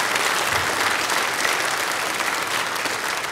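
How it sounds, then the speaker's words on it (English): A church congregation gives a short round of applause for a staff member, a dense, even burst of many hands clapping that holds steady throughout. "our thank you for John with a little round of applause"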